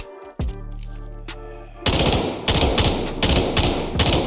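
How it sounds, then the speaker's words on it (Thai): An SG552 assault rifle in the Delta Force video game fires loud, close, rapid automatic bursts with sharp repeated cracks, after a quieter tonal intro lasting nearly two seconds. "ปืนนี่อย่างนิ่งและก็โคตรรัวเลย"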